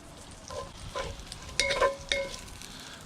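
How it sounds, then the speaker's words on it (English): Bacon renders in a pan over lump charcoal, giving a steady close sizzle and fry crackle with a few sharp clinks and scrapes of stirring, and no voices. "Just gotta finish rendering out this bacon."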